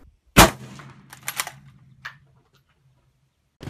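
Single loud crack of a Gewehr 98 bolt-action rifle, followed by metallic clicks and clacks of the bolt being worked, then a faint clink and the start of another shot at the very end.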